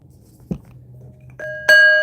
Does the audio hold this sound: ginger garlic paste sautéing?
no